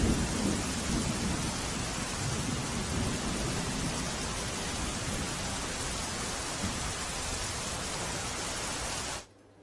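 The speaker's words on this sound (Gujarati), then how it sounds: "ભારે વરસાદ વરસી રહ્યો હતો" Heavy rain pours down during flooding in Gujarat, a steady, loud roar with low rumbling beneath it that holds for about nine seconds and then cuts off abruptly.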